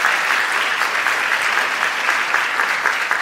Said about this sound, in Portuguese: Uma salva de palmas pra vocês que vieram aqui hoje.